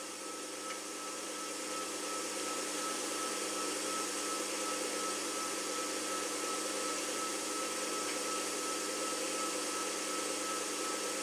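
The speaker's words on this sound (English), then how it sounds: "That fan is really quiet." A drying fan runs at a steady level, a constant close whir with a faint hum that never changes, and nothing else is heard.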